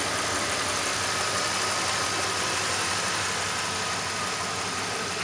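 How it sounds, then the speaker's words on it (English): A 1998 Jeep Grand Cherokee 5.9 Limited 4x4 V8 idles with a smooth, steady low hum and faint even rumble, quiet and unchanging throughout with no voices. "overall, the car sounds really good"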